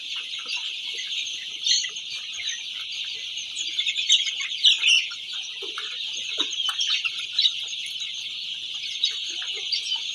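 Young chicks and grown chickens of a free-range poultry farm chirping and clucking continuously, with scattered louder calls from nearby birds over a dense peeping chorus; no talking.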